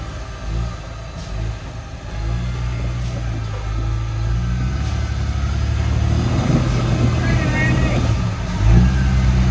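An off-road vehicle's engine revs hard and steadily while its wheels spin, the rising mid-range drone loud and close throughout, with people talking over it.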